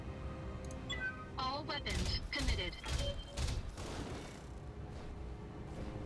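AC-2 autocannons on a Hunter mech in BattleTech fire a rapid volley of loud booming shots, overlapping into a rumbling burst, with game effects and talk under the firing.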